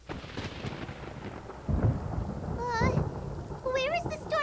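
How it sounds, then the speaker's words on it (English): Rolling thunder from a storm in the game Genshin Impact, a low rumble building midway and swelling again near the end, mixed under game music and character voices. "Paimon hears thunder!"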